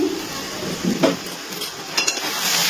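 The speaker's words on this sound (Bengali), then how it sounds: "নাড়াচাড়া করে নিচ্ছি।" A spoon scrapes and stirs cabbage in a pan over a low gas flame, giving soft scrapes and a couple of light clinks over a steady background hiss, close and moderately loud, with no talking.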